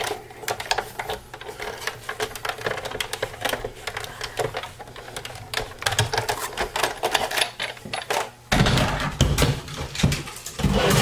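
A die-cutting machine feeds a small die and card through its rollers, giving a steady, close, rattling mechanical whir for several seconds that grows louder and denser near the end.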